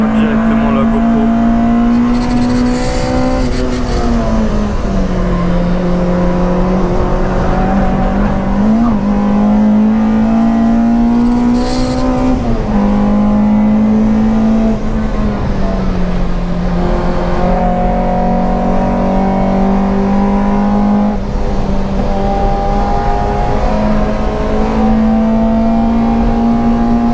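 A car is driven hard around the Nürburgring Nordschleife, heard from onboard. The engine roars loud and continuously, rising and falling with acceleration, gear changes and braking through the corners.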